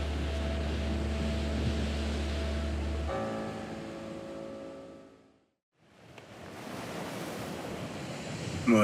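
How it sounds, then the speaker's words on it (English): Wind buffets the microphone on a beach, mixed with surf and a low rumble that drops out briefly before a loud gusty roar returns. "The wind is now picking up"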